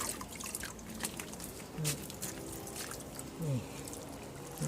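Water dripping and trickling while potted medicinal herb plants (Andrographis, fa thalai chon) are watered in an organic garden, a steady wet patter close by with faint voices in the background.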